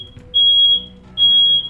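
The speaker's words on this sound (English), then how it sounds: "it's just a fucking fire alarm" A fire alarm beeps indoors, two long, piercing, steady high-pitched tones separated by a short gap, loud and close with no talk over them.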